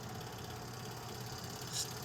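Southern Railway diesel locomotives idle nearby with a low, steady rumbling drone, heard briefly and fairly faintly.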